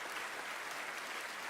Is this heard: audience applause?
yes